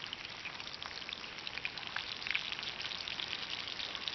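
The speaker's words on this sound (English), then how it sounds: "Sizzling away." Bacon and eggs sizzle in a frying pan at a camp breakfast inside a canvas tent, a steady, crackling hiss with scattered pops, unbroken and fairly close.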